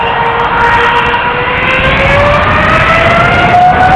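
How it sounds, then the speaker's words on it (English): A ten-year-old KLM Boeing 777 airliner bound for Rio de Janeiro at Amsterdam Schiphol gives a loud, steady jet roar with a rising engine whine, continuous and close, with no talk. "It is another 777 from KLM going to Rio de Janeiro, a 10-year-old 777."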